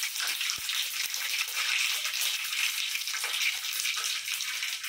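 Mustard and cumin seeds crackle and sizzle in hot oil for a tomato chutney tempering. The frying hiss is steady and close, with occasional sharp pops and no speech.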